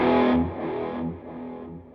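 A distorted electric guitar chord rings out and decays through an HX Stomp, washed in heavy delay and reverb that trail off as echoes.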